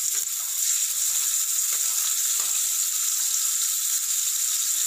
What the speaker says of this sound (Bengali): পেঁয়াজগুলোকে হালকা ফ্রাই করে নেব।